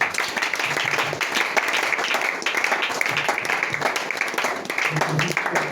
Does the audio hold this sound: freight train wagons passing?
no